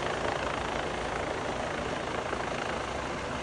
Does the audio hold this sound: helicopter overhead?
yes